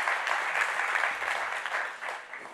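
Audience applause at a BricsCAD V20 software keynote, a steady broadband clapping wash from a large crowd that holds for a few seconds with no voices over it.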